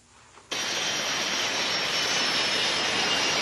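Military jets, including Sukhoi 30 MK2, F-16 and K-8, take off with an abrupt surge into a loud, steady, broadband jet roar that holds without a break.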